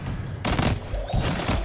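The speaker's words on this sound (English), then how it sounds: "I'm getting sniped." Sniper fire in Destiny 2 cracks in a rapid cluster of sharp gunshots with booming tails, loud and close, a short burst of game combat.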